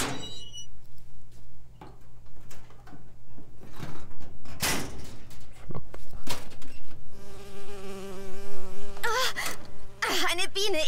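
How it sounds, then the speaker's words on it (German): A bee buzzes in the video game BioShock Infinite, a wavering drone that persists under scattered thuds and clicks, with game sounds and tonal effects building toward the end. "Eine Biene. Ich hasse diese Viecher."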